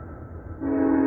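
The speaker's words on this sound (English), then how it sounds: "those headlights you see coming now are the train going down the tracks" A train on the tracks at night sounds a steady horn tone that begins partway through, over a low rumble.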